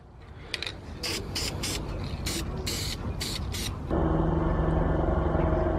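Rattle can spraying primer over bare metal, several short hissing bursts in a quick irregular rhythm followed by a longer steady spray, close and fairly loud over a low background rumble.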